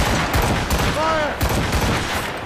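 Ship cannons boom in repeated heavy volleys during a naval battle in Assassin's Creed Rogue, dense rumbling blasts filling the scene with voices shouting faintly beneath.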